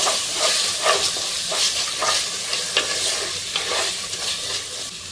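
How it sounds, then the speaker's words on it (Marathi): Masala paste for Karnataka-style vegetable pulao sizzles and hisses steadily in a hot pan, with repeated scraping stir strokes every half second or so, close and fairly loud, with no talking. "आता मसाला व्यवस्थित परतून घेऊया एक मिनिटांपर्यंत"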